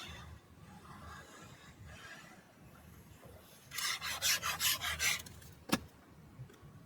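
Paper being burnished by hand on a Stamperia New England wedding album, heard as a quick series of six close, dry rubbing strokes followed by a sharp tap, with quiet room tone before and after.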